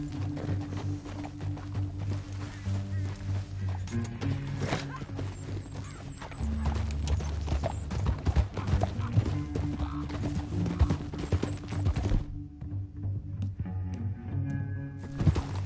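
Rapid hoofbeats of a galloping horse in Red Dead Redemption 2 with a game-style music bed, steady and busy, briefly dropping away near the end.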